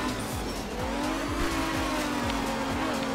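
A rally car in the video game Art of Rally on a dry Sardinia gravel stage, its engine droning loudly and rising in pitch as the tires squeal and skid repeatedly.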